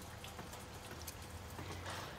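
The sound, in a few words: light rain with fine drops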